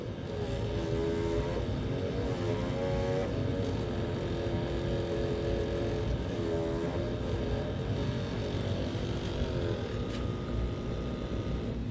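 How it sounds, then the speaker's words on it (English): A model Disney Nautilus submarine has its propulsion, steering and pitch motors run in a test, giving a continuous electric whine that wavers and shifts in pitch as each motor engages, steady and close. "I'm just going to casually run everything here, make sure it's working. Propulsion, steering, pitch control."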